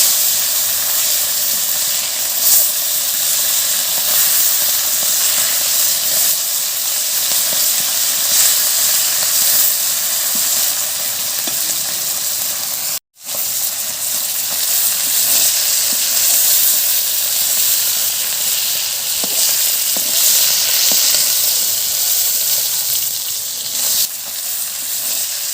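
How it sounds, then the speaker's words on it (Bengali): Pomfret fish frying in hot oil, giving a steady loud sizzle and hiss that carries on without a break for nearly the whole stretch, cut once by a brief silent gap midway. "মাছগুলো একটু ভাজা হয়ে গেছে"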